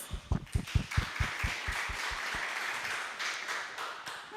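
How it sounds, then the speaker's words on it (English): An audience applauds after a presentation at a talk on gender in science, technology and innovation, opening with a few loud, distinct rhythmic claps that give way to a softer, thinning patter of scattered clapping. "If we can give her a hand of applause."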